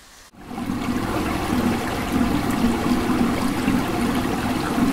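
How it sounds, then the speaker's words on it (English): A toilet in a Swift Escape motorhome flushes with a sudden, loud, close rush of water that starts after a short moment of quiet and keeps running steadily to the end, with no talking. "To flush the toilet, use the handle to open the cassette and then close again as shown."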